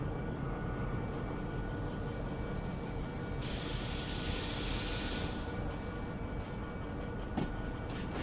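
A train in the Derail Valley VR video game slows down, giving a continuous heavy rolling rumble with a brief airy hiss swelling midway, and no talking over it.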